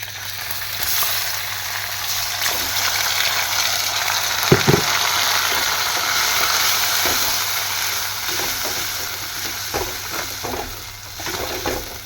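Ground spice paste of ginger, garlic, onion, turmeric, salt and chili hits onions frying in a pan, giving a steady close sizzle and hiss with a few sharp stirring knocks.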